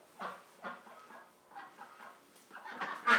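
Several quacks and clucking calls from a duck nearby, spaced irregularly and fairly quiet, with a louder burst at the end.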